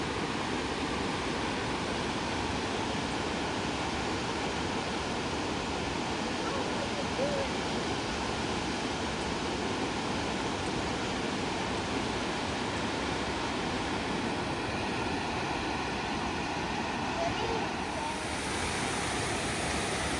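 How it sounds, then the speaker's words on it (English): Steady, loud rush of water at Kravica waterfalls in Bosnia and Herzegovina, a continuous broadband roar filling the whole scene without pause, with no voices over it. "We were walking down to Kravica waterfalls."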